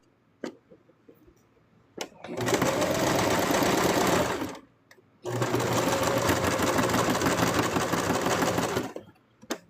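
A sewing machine stitches through plush fabric, up to four layers thick in places, running in two sustained, steady bursts of about two and four seconds separated by a brief pause, close and loud, with faint clicks before it starts.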